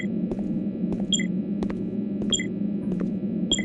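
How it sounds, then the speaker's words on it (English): Short electronic beeps from the Jedi Outcast video game repeat about every second over a constant low hum and buzz, with faint clicks in between. "You hear some annoying beeps."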